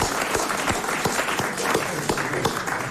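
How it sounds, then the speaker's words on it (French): A brief burst of applause on a French television game show as a contestant claps for himself, with distinct claps mixed into lighter audience clapping over a few seconds. "Et il s'applaudit, hein? Il s'applaudit lui-même."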